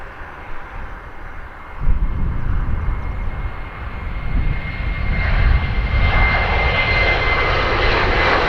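An Air France jet at Dublin Airport, its engines building from a steady low rumble into a loud, broad roar that swells and holds as the aircraft powers up near the runway.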